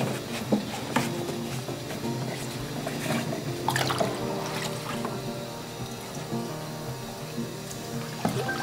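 Water runs and splashes steadily as a fragile mesh sieve screen is rinsed and gently rotated in a bin while washing veligers, with soft drips and a continuous liquid wash throughout, no talking.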